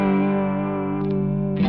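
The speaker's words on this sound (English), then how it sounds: "So this is mostly vibrato now, but still a little bit of chorus mixed" A sustained electric guitar chord through a Walrus Audio Julia chorus/vibrato pedal, mostly vibrato with some chorus, with a wavering, warbling pitch and shimmering effect, ringing alone and fairly loud.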